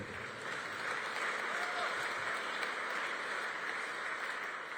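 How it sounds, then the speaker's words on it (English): An audience claps steadily through a mayor's annual State of Metro address in Nashville, a broad even wash of applause from a large room. "you can applaud for that too"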